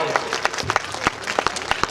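An audience at a Hindi comedy poetry recital claps, sharp irregular hand claps close by, loud and lively over two seconds.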